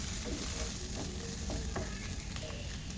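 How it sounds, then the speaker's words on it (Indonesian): Bay leaves, lime leaves and lemongrass sautéed with ground spices and curry powder for Cirebon empal gentong, giving a steady close sizzle with light stirring scrapes throughout, no voices. "Tambahkan daun salam, daun jeruk, batang serai. Lanjut tumis kembali sebentar."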